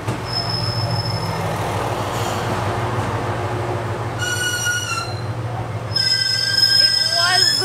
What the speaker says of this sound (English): This is just a 1-car train.